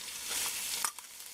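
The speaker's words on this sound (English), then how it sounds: "So once your oil is nice and hot, add your onion" Onion goes into hot macadamia nut oil with a burst of bright sizzling that drops off after a moment, followed by a few soft stirring scrapes and clinks.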